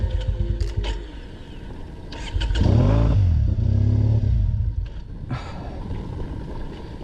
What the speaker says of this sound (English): I'm gonna ride my motorcycle like this now.